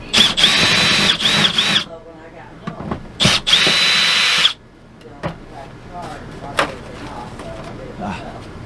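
A power drill removes screws from an air conditioner cover in two loud, close bursts with short stutters in between, followed by quieter handling noises and scattered clicks.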